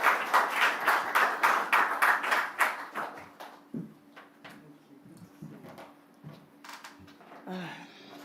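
An audience applauds as a government minister is welcomed onstage at a bank branch commissioning in Manchester, loud rhythmic clapping that fades into scattered claps, with a faint tone and light movement noises underneath.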